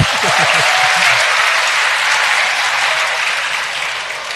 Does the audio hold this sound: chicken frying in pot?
no